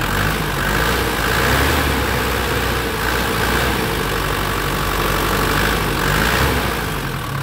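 A steady, rumbling 2004 Isuzu Panther LS diesel engine idles continuously at close range, its low throb even and unbroken throughout, with no voices over it.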